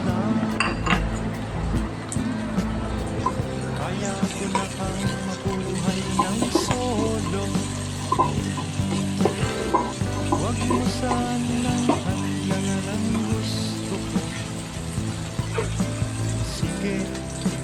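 Garlic and tomato sautéing in a pan for a chicken, chayote and string bean dish, with frequent clinks and scrapes of a utensil against the pan under a low frying background.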